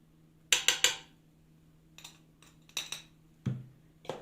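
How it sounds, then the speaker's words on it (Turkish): A spoon mixes cake batter in a bowl for a quick pan-made moist cake, with bursts of sharp clinks and scrapes against the bowl in irregular clusters, fairly close and with no talk. "Yine bunları şöyle güzelce bir karıştırıyorum"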